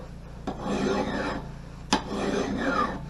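A file rasps along the edge of an axe or splitting maul in two long, even strokes, each starting with a sharp contact click. The sound is close and fairly quiet.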